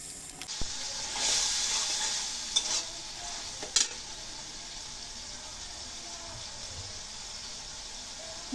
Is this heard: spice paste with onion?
yes